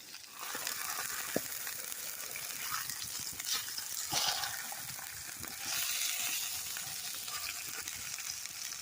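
Steak sizzles steadily in a hot cold-handle cast iron cowboy skillet over a campfire at a bushcraft shelter, with continuous crackling and spitting fat and a few sharper pops.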